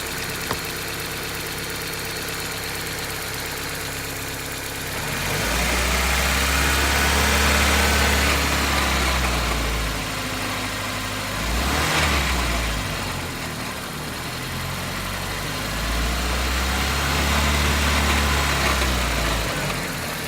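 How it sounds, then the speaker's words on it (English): A 1995 Geo Prizm engine idles while warming up, a close, steady low rumble that surges and settles in uneven waves, hinting at a rough idle near stalling, with no talk over it. "I'm going to try to speed up the warming of the engine here, which will probably cause the stall to happen."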